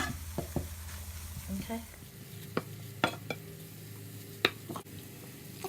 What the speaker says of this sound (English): So it's been about 10 minutes since the spices have been cooking.